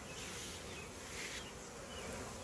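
A swarm of honey bees holding mated queens buzzes as a dense, continuous drone, close and steady, with no talk.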